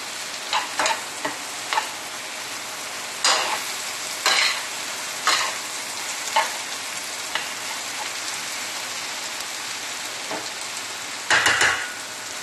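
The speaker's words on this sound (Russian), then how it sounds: "Вода в кастрюле закипает, зажарка наша жарится." Onion and carrot sizzle steadily in a frying pan as a soup base, with scraping clicks of stirring recurring at irregular intervals, close and alone without talk.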